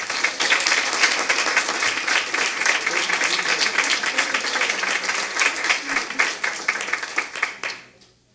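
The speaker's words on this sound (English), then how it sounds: "a round of applause for Diane, please" Dense applause from a school board meeting audience honoring Diane, a steady wash of many hands clapping for about eight seconds before stopping abruptly.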